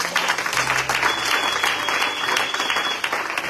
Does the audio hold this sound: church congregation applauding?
yes